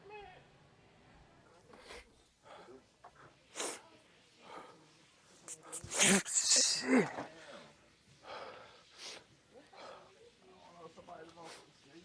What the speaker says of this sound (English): You just sneezed on me, dog?